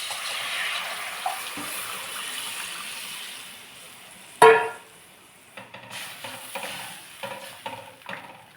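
Tamarind fish curry broth, Nellore-style chepala pulusu, bubbles in a pot, a soft watery simmer broken by one sharp metallic clatter midway, then light stirring scrapes.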